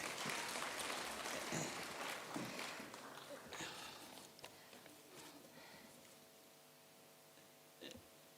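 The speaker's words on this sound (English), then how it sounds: "Let's give her again a round of applause." Audience applause at a senior citizens sector parliament feedback session fills the hall, loud and dense at first, then thinning into scattered claps that fade over several seconds.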